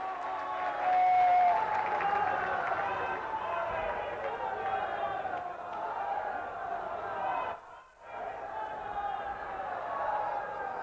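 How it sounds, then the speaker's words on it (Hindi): Crowd applause and cheering at a public welcome for PM Modi in Varanasi, a loud sustained roar of clapping and voices that holds steady throughout, briefly dipping near the end before swelling again. "सभी लोग खड़े होकर जोरदार तालियों से उनका स्वागत करें, अभिनंदन करें।"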